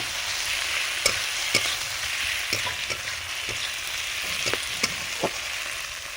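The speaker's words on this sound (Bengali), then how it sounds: "লঙ্কাটা ভালো করে পেঁয়াজের সঙ্গে ভেজে নেব" Green chillies fry with onions in a pan under a constant crackling sizzle, punctuated by regular spatula knocks and scrapes against the metal as they are stirred.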